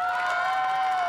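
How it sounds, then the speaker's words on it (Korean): Studio audience applauding and cheering on a Korean TV variety show set at an obstacle course, a dense steady crowd sound filling the whole short moment. "우리 이창훈 씨에게 다시 한번 박수 한번 쳐주세요."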